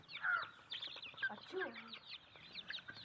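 Faint, high-pitched chicks cheep again and again in quick, overlapping peeps, with ducklings alongside, heard from close by in a quiet setting.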